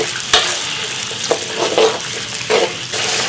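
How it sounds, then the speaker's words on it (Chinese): Chili bean paste and hotpot base stir-frying in hot oil with scallion, ginger and garlic, a steady crackling sizzle broken by several sharp scrapes of a spatula against the wok. "锅中加油，葱姜蒜，2勺豆瓣酱，适量火锅底料，自制的"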